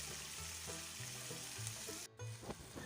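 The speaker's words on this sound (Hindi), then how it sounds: "तो इसको हम ऑयल में अच्छे से फ्राई कर लेंगे जब तक ये वाइट ना हो जाए" Chicken pieces frying in oil in a pan give a steady, close sizzle throughout, with a few stirring knocks and a short dip near the end.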